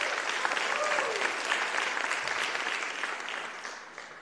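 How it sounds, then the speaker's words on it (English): Audience at a city council meeting applauds the Woman of the Year, a dense, even wash of clapping that holds steady and then gradually thins and fades toward the end. "Give her a round of applause."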